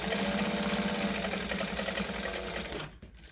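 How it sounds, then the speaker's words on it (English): A sewing machine stitches a pocket onto a bag at a short basting length, running in a steady, close, loud mechanical whir that stops abruptly near the end. "I'm stitching at an 1/8 of an inch because it's my favorite basting length."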